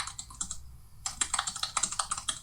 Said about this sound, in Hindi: इसके अंदर बहुत सारे अंदाज में टाइपिंग की गई है